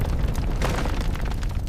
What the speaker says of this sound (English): The wooden apartment is going up in flames!